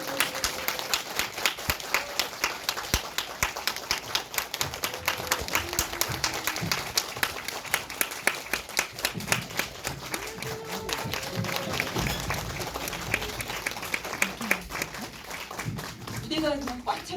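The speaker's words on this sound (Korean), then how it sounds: "감독님과 배우분들 큰 박수로 맞아주십니다" A cinema audience at a Korean indie film screening and Q&A claps to welcome the director and actors, a loud, sustained, sharply rhythmic round of applause lasting the whole stretch, with a voice briefly over it near the end.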